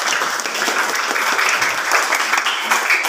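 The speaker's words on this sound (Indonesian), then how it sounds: "Oke, tepuk tangan sekali lagi." A crowd of school students claps steadily, dense applause holding at an even level throughout.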